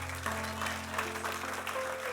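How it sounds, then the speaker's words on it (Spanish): A church congregation claps in praise during a sermon, a faint, diffuse patter of applause beneath a sustained tonal hum, with a voice briefly present. "Un aplauso al Señor."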